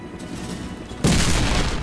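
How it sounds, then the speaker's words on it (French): A C4 charge exploding at a gate in the video game Warface, a sudden loud boom that cuts in about halfway and leaves a sustained rumbling roar. "Vous avez été blessé par l'explosion."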